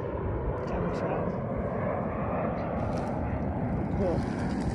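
Snowbirds air show planes flying overhead, a continuous loud engine roar carrying across the whole stretch while people talk nearby.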